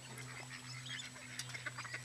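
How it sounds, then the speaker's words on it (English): Ducks being fed quack and honk in a lively scatter of short calls, fairly faint against a steady background hum, with no talk over them. "I just threw some chicken to the ducks."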